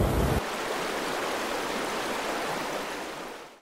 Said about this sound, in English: Just rolled up to this little creek.